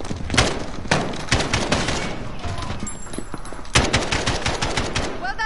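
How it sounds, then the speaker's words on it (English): Rapid automatic gunfire in the video game Modern Warfare, dense bursts of shots repeating close and loud for the whole span, with brief gaps between volleys and no clear talk over it. "Point and shoot until they fall, like we said. They're exposed! Shoot!"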